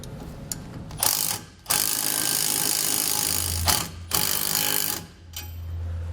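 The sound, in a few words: tightening bolts with 19mm socket and wrench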